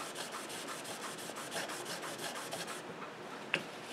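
Plane blade being honed on a 1000 grit Shapton whetstone during a Stanley No. 5 plane restoration: close, rhythmic rubbing strokes of steel on stone, then a pause and a single small click.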